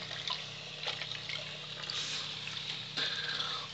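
Shower water running steadily while a cat is being washed, a continuous close hiss and spatter with shifting splashes throughout.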